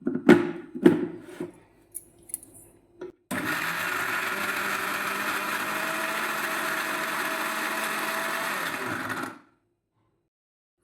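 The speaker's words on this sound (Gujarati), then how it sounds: "હવે આપણે જે બધી વસ્તુ સમારેલી હતી તેને મિક્સરમાં ગ્રાઇન્ડ કરી લઈશું।" A kitchen mixer grinder blends chopped vegetables and coriander into juice, whirring loudly and steadily for about six seconds. Brief knocks and clatter come before it, and the motor stops abruptly at the end.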